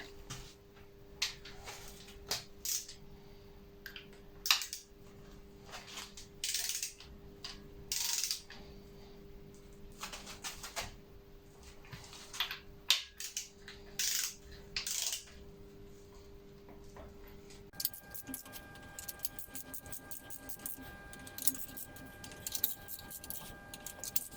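A torque wrench tightens the engine block bolts of a Nissan CA18DET, giving close, sharp metallic clicks and ratcheting sounds in irregular bursts over a quiet workshop background.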